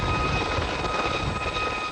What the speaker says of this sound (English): On board this British Army helicopter